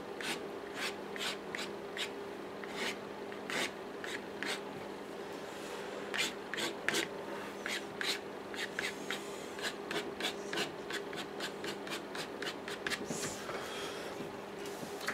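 A tool scrapes out watercolour paint on paper in a steady run of short, dry strokes, close and fairly quiet, repeating at a brisk uneven rhythm over a faint hum.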